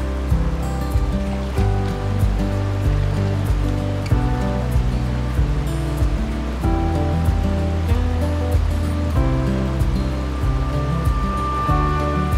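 A small waterfall on a Smoky Mountains stream pours into a deep pool with a loud, steady broadband rush and gurgle, continuous and close, with no talking.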